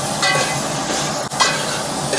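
Beef searing in a preheated pot as the first step of a beef curry, giving a steady, continuous sizzle and hiss at moderate level with a brief dip partway through and no talking.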